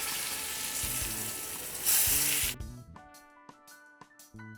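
Chicken fries in oil and hot butter in a pan with a loud, steady sizzle that cuts off partway through, followed by quieter light clinks and scraping of kitchen utensils.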